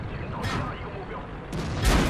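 Tank cannon shots in the World of Tanks video game: a few heavy booming blasts, one early and two close together near the end, over a continuous roar of battle noise.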